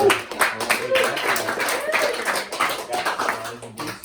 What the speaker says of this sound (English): So round of applause, Stuart